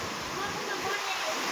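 Rainwater floodwater pouring and flowing after heavy rain, a short, even, close-up rushing hiss with no break.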